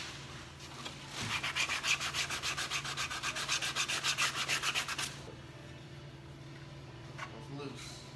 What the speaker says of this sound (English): sand the smooth areas with our 60 grit sandpaper